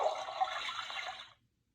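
A toilet flush from a children's potty-time sound book, a short rushing water burst that swells quickly and then cuts off abruptly after about a second and a half, alone with no talk.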